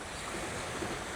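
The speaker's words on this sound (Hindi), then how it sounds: "समंदर की लहरें" Sea waves wash steadily onto the shore near the Verrazzano-Narrows Bridge in New York City, a soft broadband rush with wind noise and no clear breaks, faint and continuous.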